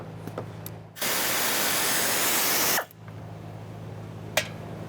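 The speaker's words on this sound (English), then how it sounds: "So I'm using my air tool." An air tool loosens bolts on the fuel pump assembly of a 2002–2006 Toyota Camry, letting out one loud, steady burst of about two seconds. A low hum and small clicks come before and after it.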